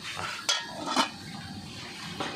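A pot lid is set down on a simmering pot of spicy Thai tilapia soup, giving two sharp metallic clinks half a second apart and then a softer knock, close by against a low kitchen background.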